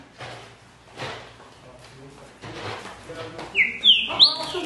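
Trinca-ferro (green-winged saltator) singing, a few clear loud whistled phrases arriving near the end over a quiet background of scattered handling noises and low talk.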